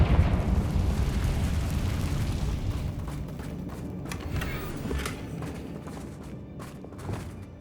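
A Confringo fire-blast spell explodes in Hogwarts Legacy with a broad roaring burst at the start, then a crackling, rumbling fade carrying a few sharp pops and thumps.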